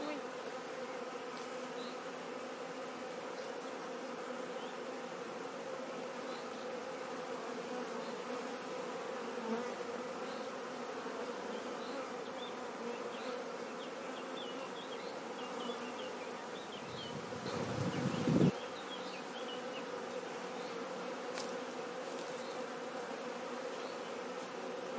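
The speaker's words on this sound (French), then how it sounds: "Les abeilles, elles ont été super gentilles." Honeybees hum steadily around a refuge-style hive with a chalet roof, a dense continuous buzz from many insects, with a brief louder pass of a close bee toward the end.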